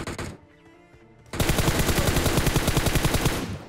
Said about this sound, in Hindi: लेकिन तभी एक और स्नाइपर चली